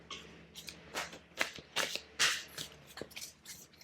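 Playing cards are shuffled in quick, crisp riffling bursts, several flurries close to the mic in a quiet room.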